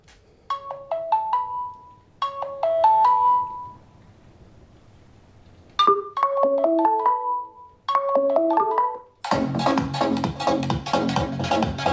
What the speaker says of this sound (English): I would just rather test ringtones